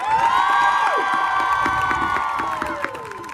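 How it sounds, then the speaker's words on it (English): At a women's summit, an audience cheers and claps for a children's choir, with high whoops and shouted voices riding over steady clapping throughout, loud and close. "Round of applause for the Compton's Kids Choir"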